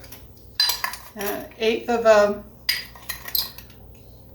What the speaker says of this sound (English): Just stir it up lightly.